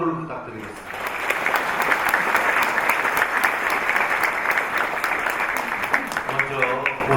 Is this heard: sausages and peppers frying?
no